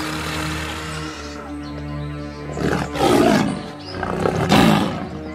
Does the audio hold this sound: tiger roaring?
yes